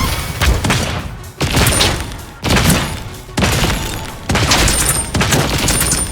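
Heavy weapon shots in Realm Royale Reforged land as about five loud booming blasts, each followed by a decaying tail, spaced roughly a second apart.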